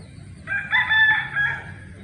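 A rooster crows once at moderate distance, a short strained cock-a-doodle-doo over a faint low background hum.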